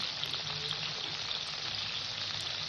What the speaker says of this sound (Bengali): শোল মাছ ভাজতে অনেক টাইম লাগে আর মাছটা ভাজার সময় গ্যাসটা একদম ছোটো করে দিয়ে একটু টাইম নিয়ে ভাজতে হবে